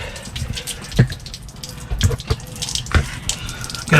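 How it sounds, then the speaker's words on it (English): Water from an RV fresh water tank, a few gallons rinsing out of a tank dry for over a year, drains through a small petcock, giving a steady trickling splash with a few louder drips and gushes close by. "That's the fresh water tank draining, like 3 or 4 gallons that I put in it"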